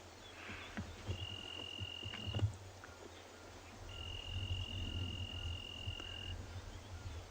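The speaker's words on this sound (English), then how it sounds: "Lovely sound of a cricket." Crickets chirp at night on a South African safari, two long steady trills ringing out over a low rumbling background, faint and continuous.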